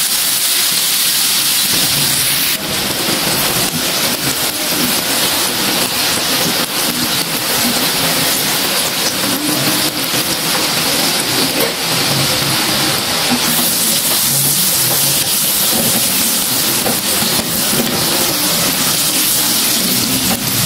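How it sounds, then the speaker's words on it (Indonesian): Flour-coated popcorn chicken pieces deep-frying in cooking oil give a loud, steady, dense sizzle that runs unbroken for the whole stretch, with no talking. "goreng semua ayam balut tepung tadi menggunakan secukupnya minyak goreng"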